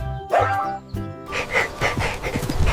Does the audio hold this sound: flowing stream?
no